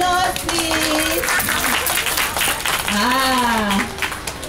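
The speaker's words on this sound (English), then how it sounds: "Can you give them a round of applause, please?" A group applauds after a telling of the Enormous Turnip story, a continuous patter of clapping with a voice speaking over it for most of the time.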